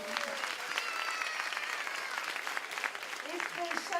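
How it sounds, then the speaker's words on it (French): An audience at a dance school's 30th anniversary applauds its dance teacher, a steady wash of clapping from a crowd, with a voice speaking over it at times. "vous pouvez l'applaudir"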